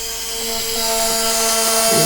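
A continuous high-pitched whine of small electric motors spinning, steady and loud with a slight rise, like a drill-like buzz close by.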